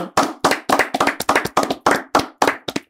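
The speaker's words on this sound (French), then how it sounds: "On peut l'applaudir." Steady rhythmic clapping, about ten sharp hand claps in three seconds, greets a guest in a French football talk-show studio, loud and close with no voices over it.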